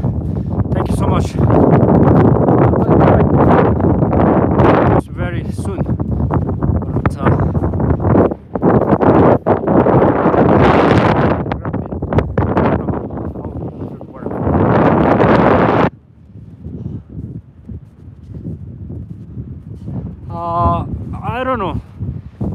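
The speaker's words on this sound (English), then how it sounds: "reached the windy place." Strong wind buffeting the microphone on a remote mountain trail in Bhutan, loud roaring gusts in long bursts that drop away near the end, with someone talking through it.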